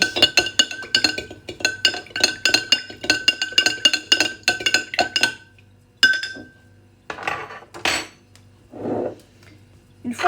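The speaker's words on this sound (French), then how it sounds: "Une fois que vous avez rajouté ces 50 centilitres d'eau, vous remuez." A spoon stirring water in a glass fermentation jar, producing rapid, repeated bright clinks against the glass, followed by a few slower scrapes and knocks, close and clear.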